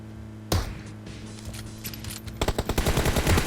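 Gunfire in PUBG Mobile: a sharp shot lands early, then a few scattered pops, then a fast, loud automatic burst rattles to the end.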